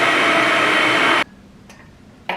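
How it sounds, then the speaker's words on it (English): A blender whips cottage cheese with buffalo sauce, a loud, dense motor roar that runs steadily for over a second and then cuts off, followed by faint kitchen clatter and a brief knock. "Now let's blend that all together and whip it until smooth."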